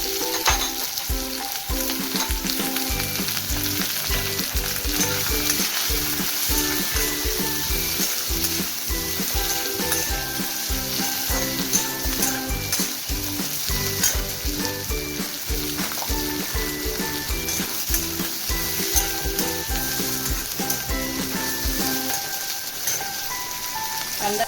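Onion fries in hot oil with whole spices in a wok (kadhai) while a misal masala is cooked: a loud, continuous crackling sizzle with faint stirring, steady throughout and without any talk.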